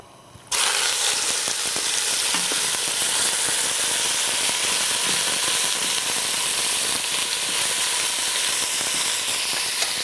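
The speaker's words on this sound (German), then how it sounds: "Das ist auch genau richtig, wenn ihr das Fleisch jetzt anbratet." Pieces of beef for goulash drop into hot oil and start searing, bursting into a loud, dense sizzle after a brief quiet moment and hissing steadily and close, with no voices.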